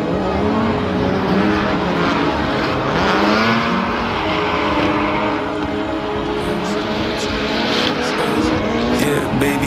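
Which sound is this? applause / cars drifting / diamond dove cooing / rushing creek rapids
cars drifting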